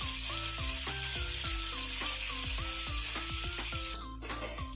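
Pointed gourd pieces frying in a pan with salt and turmeric give a steady, close sizzle throughout, with stirring scrapes and clatter over a tonal music bed; no one speaks.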